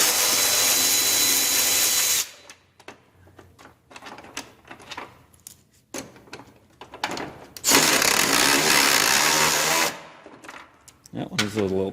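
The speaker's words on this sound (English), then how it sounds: "I'm using the electric tools to kind of speed up the process and shorten the video." An electric power tool backs out 10mm bolts during automotive headlight service. It runs in three loud, close bursts of whirring, and a voice talks during the quieter gaps between them.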